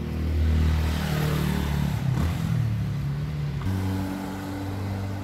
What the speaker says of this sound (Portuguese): O trânsito aqui é bem intenso.